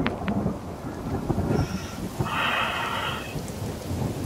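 Steady rain hisses in the survival video game The Forest, a continuous wash of drops with a low rumble of thunder rolling beneath, no voices.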